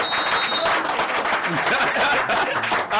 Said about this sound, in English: Just like clap for Federal Mortgage Bank